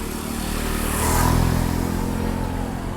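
A motorcycle passes close by on a street in Thailand, its engine note swelling to a peak midway and then easing off as it moves away, with steady background traffic.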